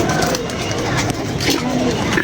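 Pigeons coo softly amid a busy, windy outdoor background with fluttering noise as the flock is released, and people talk over the scene.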